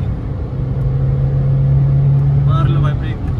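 Diesel Chevrolet Cruze automatic and Skoda Rapid DSG drag racing, a steady loud engine drone with a held low tone, then a rising whine near the end, under excited talk.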